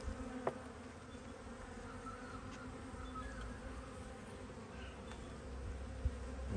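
Honey bees buzz steadily all around a hive, a continuous low drone with a soft outdoor hiss and occasional faint clicks, no voices.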